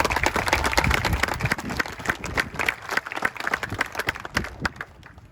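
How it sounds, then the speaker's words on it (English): A crowd applauds continuously, many hands clapping in a dense patter that stays loud throughout before thinning slightly at the end. "give them another round of applause if you could"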